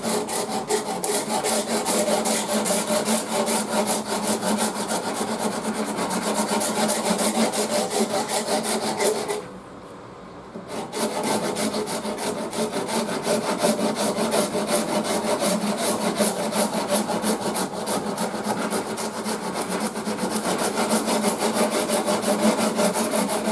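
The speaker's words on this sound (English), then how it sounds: "using the sort of the rough side of the Shinto right now" Shinto rasp, a tool made of interwoven bandsaw blades, shaping wood with its rough side: loud, continuous rhythmic rasping strokes, close up, with one brief pause midway before the scraping resumes.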